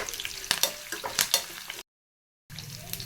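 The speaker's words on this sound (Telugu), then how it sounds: "కరివేపాకు వేసి ఒకసారి కలుపుకుందాం." Oil sizzles steadily as curry leaves crackle in it, with sharp spatters and scraping stirs, then a brief silence before the frying resumes.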